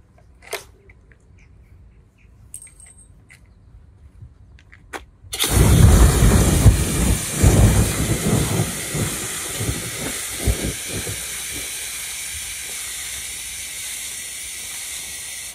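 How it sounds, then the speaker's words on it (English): A P50 foam fire extinguisher discharging onto a real burning fire, a few faint clicks first, then a sudden loud rushing hiss of spray that gradually settles to a steadier sustained jet. "I'll now apply that process with a P50 foam extinguisher to eliminate the fire."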